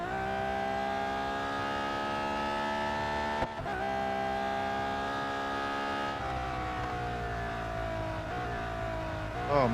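A racing car in Real Racing 3 holds a steady, loud engine drone whose harmonics dip and shift as it brakes hard and runs off the track, with a brief cut in the middle and no talking.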